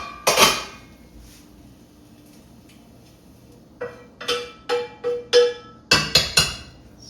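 Dry macaroni is poured into a cooking pot in a kitchen, with an early clatter and then a quiet stretch, followed by a series of sharp hard pattering rattles and clinks in quick clusters.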